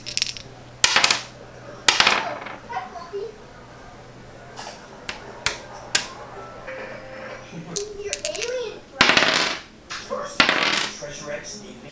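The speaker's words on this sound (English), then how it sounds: "that's where I have to roll the die" A die is rolled for a reading challenge, heard as sharp, close clattering clicks in several short bursts separated by quieter pauses.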